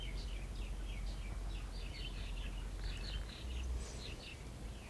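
Birds chirp and tweet repeatedly in short bursts over a steady low outdoor rumble at a villa in Hawaii, moderately distant and fairly faint.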